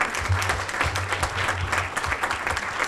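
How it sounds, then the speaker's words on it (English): A crowd claps steadily through a certification ceremony, a dense, sustained round of applause with no voices over it. "Congratulations. Huge round of applause,"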